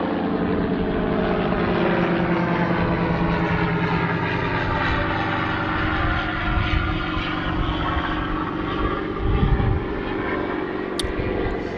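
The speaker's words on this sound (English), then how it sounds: "Got a helicopter flying over." A loud, steady rotor-and-engine drone fills the whole stretch, a helicopter passing close overhead with a continuous pulsing hum.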